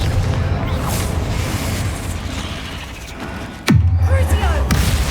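A Confringo spell blast in Hogwarts Legacy lands as a sudden booming burst over ambient game sound, followed by rumbling that stays loud afterward.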